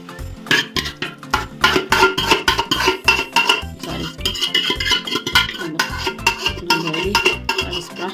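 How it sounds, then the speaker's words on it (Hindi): Vegetables for pav bhaji sizzle in a pan while a spoon scrapes and clinks against metal in quick, irregular strokes, close by. "अब इसके अंदर ये सब्जी ऐड कर देती हूँ"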